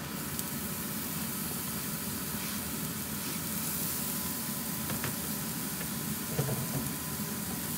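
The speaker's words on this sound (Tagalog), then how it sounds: "Sunod natin ang sibuyas." Onions sautéing in a pan for a simple Filipino dish of chicken liver and gizzard, a steady loud sizzle and hiss that runs unbroken throughout.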